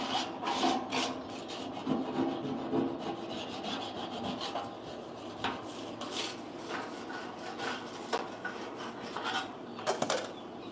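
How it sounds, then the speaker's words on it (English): Repeated rough scraping strokes from a scraper worked over a surface during morning farm chores with baby chicks, a rhythmic rasping rub with short bursts and pauses, close and fairly loud, no talking. "you just get your old scraper over here"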